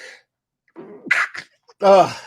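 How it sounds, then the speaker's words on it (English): A short sneeze with an intake of breath, followed by a voice speaking briefly afterward. "Oh, excuse me. I had to sneeze."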